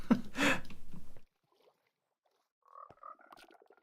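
Frogs in Minecraft 1.19 on a skyblock frog-spawn farm: a burst of rhythmic croaking, then near silence, then softer croaks returning, with nobody talking.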